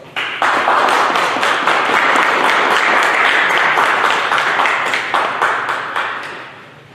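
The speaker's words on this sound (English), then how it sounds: "So I'd like to give Lieutenant Marilyn Barrett a large round of applause for her heroics" An audience gives a large round of applause honoring a police lieutenant, a thick, even clatter of many hands that swells quickly and fades out near the end.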